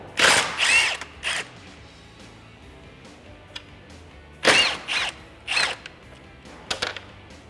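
A power tool with a 10mm socket whirs in short bursts, removing headlight bolts on a 2015–2017 Ford F150 in two clusters of quick spins separated by a few seconds of quiet.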